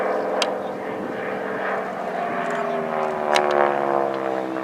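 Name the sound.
North American Harvard (SNJ) propeller aircraft flying at air show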